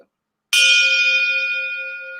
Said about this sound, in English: This is my bell, and I want you to listen.